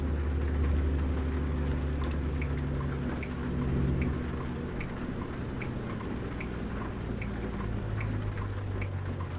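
Rain falling in American Truck Simulator while a truck drives through the southeast US, a steady pattering hiss over a low continuous engine rumble with faint droplet ticks, and no talk.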